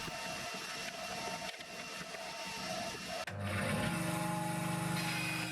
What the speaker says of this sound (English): Now I can clean out the bandsaw and make sure it's free of dust.